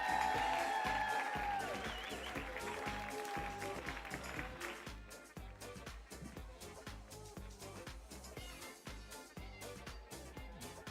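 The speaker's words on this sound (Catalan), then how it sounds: "Un fort aplaudiment, sisplau!" An audience applauds at the final of a Catalan stand-up monologue contest, loud clapping at the start that thins out and gives way to a rhythmic, beat-driven music bed with sharp repeated hits.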